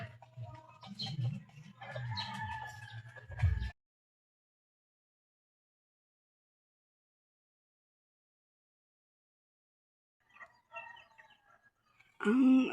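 A wild chicken crows and clucks in short bursts at the start, in a place surrounded by mountains, then long silence before more brief fowl calls at the end.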